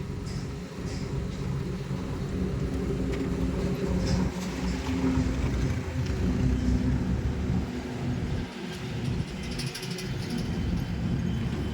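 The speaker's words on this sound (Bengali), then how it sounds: "যা, গুড, আস্তে আস্তে যা, ফার্স্ট গিয়ার দে" Car pulling away slowly in first gear during a driving lesson, a steady low engine drone and road rumble running evenly throughout with no talk over it.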